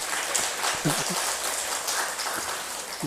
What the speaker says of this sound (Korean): 우리 박수 한번 드립시다.